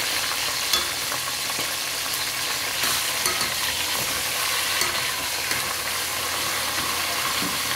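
Chicken frying in a pan, a steady close hiss and sizzle that runs throughout, with small pops and occasional stirring clinks, no speech.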